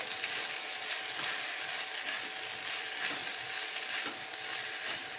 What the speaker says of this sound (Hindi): अब इसको अच्छे से मिक्स कर देंगे